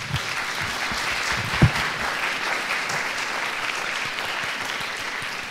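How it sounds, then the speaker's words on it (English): Audience applause for panelists at the close of a panel event, a sustained even roar of clapping with one sharp thump early on. "Can we do one more round of applause for the panelists?"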